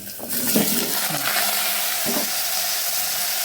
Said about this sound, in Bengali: প্রথমে দেবো লাউ আর আলুটা একসাথে ঢেলে দিলাম